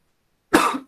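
A single sharp cough bursts out after a moment of silence, followed by the start of a second one, close and loud.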